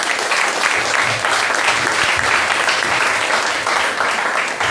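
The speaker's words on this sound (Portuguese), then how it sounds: "Aplauda o Senhor." Church congregation at a healing service applauding together, a steady dense clapping that fills the space at close range, with scattered voices faintly mixed underneath.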